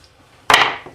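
A hammer strikes once, loud and close, giving a sharp crack with a brief decaying ring and a small trailing knock, in a quiet workshop during a ceiling fan generator turbine build.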